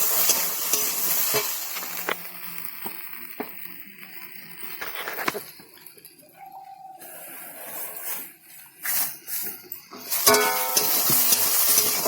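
Turmeric and chili powder sauté in a pan with eggplant, making a continuous frying sizzle punctuated by scraping stirs of a spatula, with a few louder clinks near the end and no voices.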